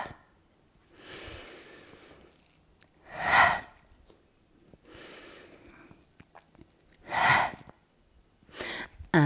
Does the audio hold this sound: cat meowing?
no